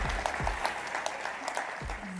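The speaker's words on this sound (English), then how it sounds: "Huge round of applause." Audience applauding after a keynote talk on generative AI at a software testing conference, a steady wash of clapping with a few sharper claps and cheers standing out over 2 seconds.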